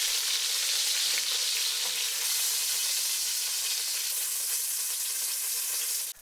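Chicken pieces for peanut-butter mafé frying in hot oil in a pan, a dense steady sizzle with fine crackling, close and uninterrupted throughout.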